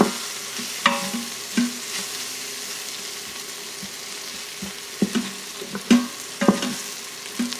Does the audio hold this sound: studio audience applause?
no